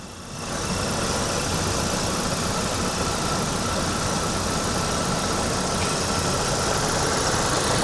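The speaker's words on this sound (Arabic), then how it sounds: "هنلاحظ ان صوت المحرك مستقر" A car engine idles steadily with the air conditioning and all lights switched on, giving a constant, even drone with a faint high whine throughout and no talk.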